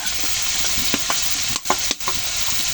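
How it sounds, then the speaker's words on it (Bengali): Chopped onions sizzling in hot oil in a pan for a kakrol malai curry, a steady dense frying hiss broken by a few scraping stirs near the end. "ভালো করে ভেজে নেব। তারপরে পেঁয়াজ কুচি,"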